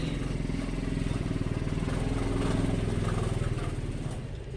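A motorcycle engine chugs nearby with a rapid, even pulsing rumble, holding a fairly steady pitch throughout.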